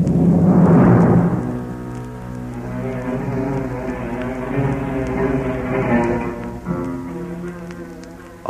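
A storm at sea in an audio drama: a loud burst of thunder opens, then steady rainfall and low rumbling continue beneath a droning, tonal layer.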